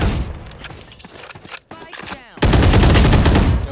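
Rapid automatic gunfire bursts in the shooter game Valorant, loud and dense, briefly dropping out before a heavier sustained volley, with voices talking underneath.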